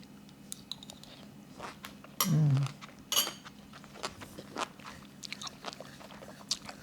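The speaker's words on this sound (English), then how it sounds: "So I'm going to taste one of each piece. This is the cucumber, the eggplant, and a piece of daikon." Crunchy Japanese sanbaizuke pickles of cucumber, eggplant and daikon being bitten and chewed, a few crisp close crunches followed by soft quieter chewing, with a faint clink of utensils.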